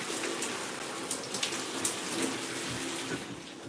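Water sprayed onto hair during a wash and go styling session, a steady hissing spray with small splashes, fairly close and heard alone.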